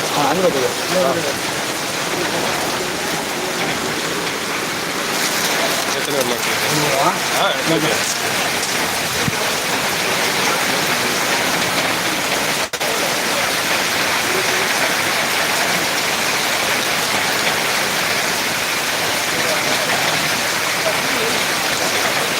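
Heavy rain falls in Ariyalur, a loud, continuous broadband roar of downpour that persists for the whole stretch, with faint voices briefly audible beneath it.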